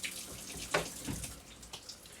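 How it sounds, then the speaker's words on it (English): Water runs from a kitchen tap in short, faint splashy bursts while a spatula is rinsed off, close by and with no talking. "Wash off the spatula and put it away."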